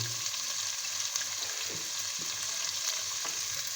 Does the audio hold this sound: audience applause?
no